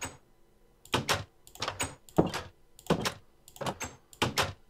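Door sounds in Minecraft: six evenly spaced two-part opening and closing clunks, each a sharp wooden knock with a brief rattle, heard close and alone against near silence.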